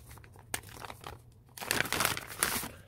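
Gift package being torn open, with crinkling plastic and paper wrapping, loud close rustles and a sharp tearing burst in the second half.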